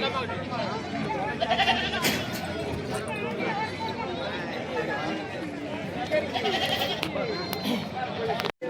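A goat bleats repeatedly amid a busy crowd of voices at the Begampur goat market, with chatter and babble running underneath the calls throughout.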